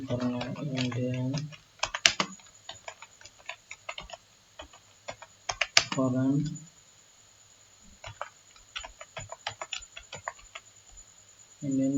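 Keys clicking in a steady patter of irregular taps on a computer keyboard during a clerk computer skills typing test, running close and moderately loud alongside someone speaking in short bursts.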